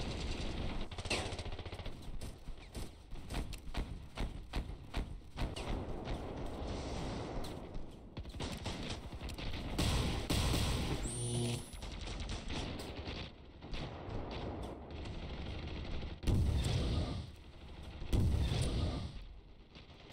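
Repeated weapon fire from the Summer Sale launcher in a modded Ravenfield match, loud rapid bursts and booming blasts layered over ongoing battle gunfire and explosions, dense and continuous throughout.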